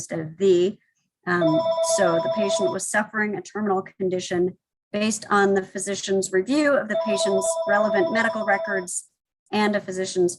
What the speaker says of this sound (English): Apologies for the phone in the background.